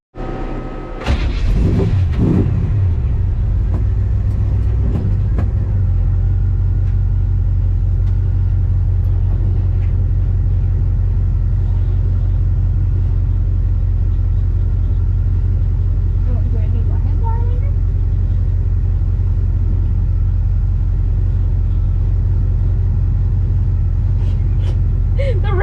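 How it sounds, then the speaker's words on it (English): A hot rod car drives with its engine rumbling in a loud, steady low drone throughout, with brief clatter and bumps near the start. "We'll just drive the car ahead."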